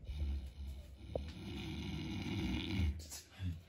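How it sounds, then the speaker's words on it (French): A woman snoring nearby in slow, rasping breaths, a steady rumbling drone with a snort partway through, while low background noise persists. "Si elle ne ronflait pas"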